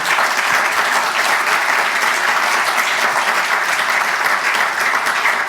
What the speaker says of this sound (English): let's give a big round of applause to our sponsor